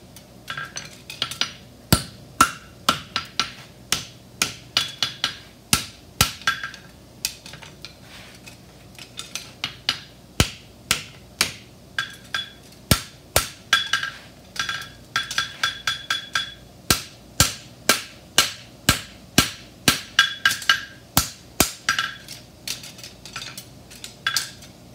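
A hammer strikes the toe bend of a steel heart bar horseshoe, ringing in a steady run of sharp, bright clinks at close range, with brief pauses between bursts of blows.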